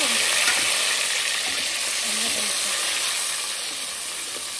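Onions fry in a pan until browned for a homemade hotel-style paneer biryani, giving a loud, dense, continuous sizzle close up that eases slightly toward the end, no speech.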